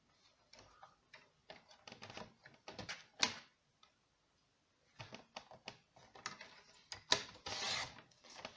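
A paper trimmer slices a thin 1 cm strip from patterned card stock for a handmade card, giving quiet, close scraping clicks in two rapid clusters separated by a brief pause.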